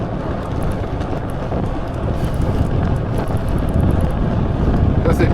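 Steady wind roars across the microphone on a long straight road while cycling near Châtellerault toward l'Encloître, a dense broadband rush that stays loud and continuous throughout.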